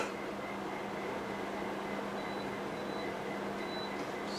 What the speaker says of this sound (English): That's my little kettle thing. It's just telling me that the water's boiled.